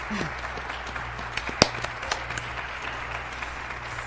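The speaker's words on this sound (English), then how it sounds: "Nice applause." Scattered, fairly quiet clapping from a chamber orchestra gala audience after a Vivaldi bassoon concerto, with a few sharper individual claps standing out over a soft background hum.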